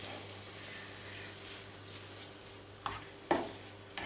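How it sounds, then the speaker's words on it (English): Creamy nettle and wild leek sauce gently simmers and sizzles in a pan under soft, steady stirring, with a couple of brief spoon scrapes near the end. "I'm just going to mix it a bit."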